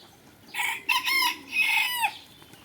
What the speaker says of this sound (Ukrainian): Тут наш кугут американський піє.